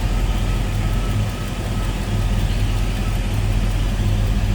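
A 1964 Chevrolet Impala convertible with a small-block Chevy V8, Edelbrock 4-barrel carburetor and Edelbrock intake manifold, idling smoothly with a steady low rumble, heard close in the engine bay and running evenly throughout.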